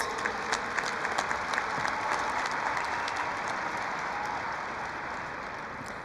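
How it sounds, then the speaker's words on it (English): Sustained applause from the audience at a 2015 Peoria High School graduation ceremony, a broad steady clapping that slowly eases, with no talk. "Please give them applause"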